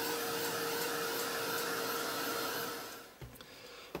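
A hair dryer blows hot air over textured acrylic paint on a page, giving a close, steady whirring roar that winds down and stops near the end, followed by a few soft handling knocks.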